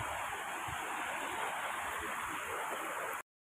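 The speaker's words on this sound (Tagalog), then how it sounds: "Tuktok ng Lawara Falls." Lawara Falls, a steady broadband rush of falling water roaring continuously at close range, then cutting off abruptly at the end.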